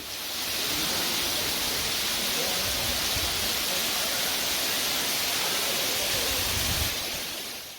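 A hillside waterfall near Umamaheswaram temple in the Nallamala Forest, swollen by monsoon rain, pours down in a steady, loud, continuous roar heard close up.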